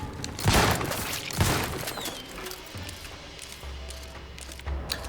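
A trench gun firing in The Outer Worlds 2, two loud booming blasts about a second apart, followed by quieter mechanical handling and low rumble.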